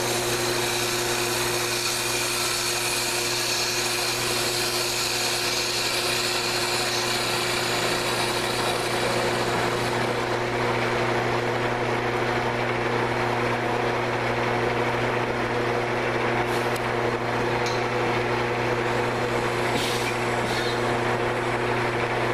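A wood lathe hums steadily while a workpiece is faced off for drilling, a continuous motor drone with a mid-range whine and occasional scraping cuts near the end, with no one talking.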